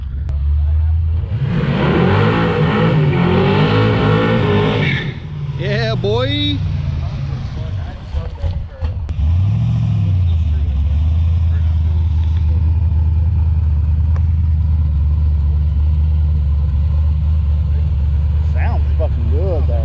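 A procharged 5.0 truck engine revs hard with rising and falling pitch sweeps, then drops into a loud, steady low idle, while people talk and cheer nearby.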